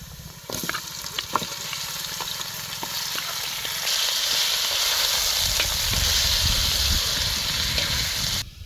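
Chicken sizzles with onions in hot ghee, a bright steady frying hiss with occasional clinks of stirring that grows louder midway.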